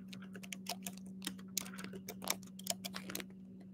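Soft, rapid tapping on a computer keyboard, irregular key clicks rattling along continuously at low volume over a steady background hum, with no voices.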